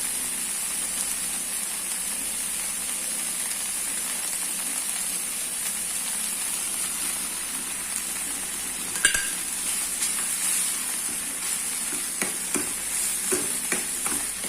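Tomato paste frying with garlic in a pan for butter chicken, a steady close hiss of sizzling oil with occasional scrapes and clicks of stirring toward the end, no talking.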